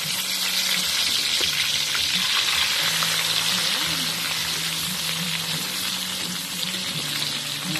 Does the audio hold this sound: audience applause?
no